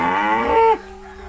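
A single cow moos nearby on a village cattle farm, a long low bellowing call that drops off at the end.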